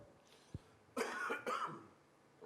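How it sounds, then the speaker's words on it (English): Two sharp coughs from a man with the flu at a press conference, close and fairly loud, following a faint click and quiet room tone. "I didn't want to say it till I coughed for the first time"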